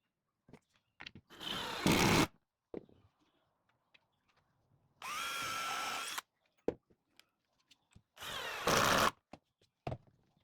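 A power drill bores holes one at a time while a drawer is assembled: three short, close whirring bursts, with light clicks and handling taps between them.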